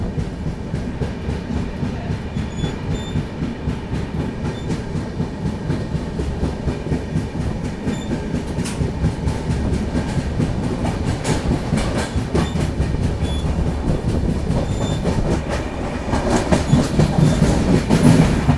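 The 12771 Raipur SF Express departs Secunderabad on the main line, rumbling steadily along the tracks with continuous clickety-clack from the wheels, loud and close, growing slightly heavier toward the end.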